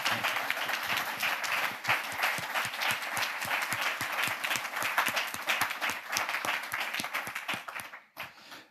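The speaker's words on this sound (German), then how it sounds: "Biene und Hajo, bitte, einen Applaus und kommt nochmal her," An audience at a closing presentation claps for a moderator team, giving sustained applause with distinct rhythmic claps that runs nearly the whole time and then drops off abruptly near the end.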